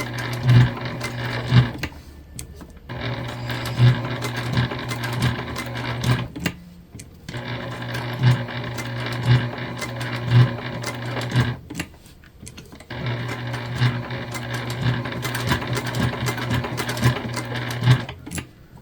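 A sewing machine stitches through a sticker on a small cross-body bag in several long, steady whirring runs, broken by brief pauses, close and clear with no talk.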